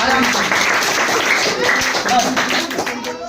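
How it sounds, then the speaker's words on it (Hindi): An audience in a school science class applauds for a boy, a dense burst of clapping that lasts throughout and fades slightly at the end, with voices mixed in. "आप एक ताली बजाओ थालापति के लिए।"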